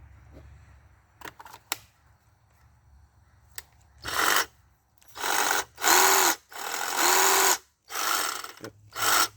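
Ryobi P516 reciprocating saw powered up after reassembly from a teardown: a few clicks and handling knocks, then several loud bursts of whirring motor, each a second or so long, separated by short silences.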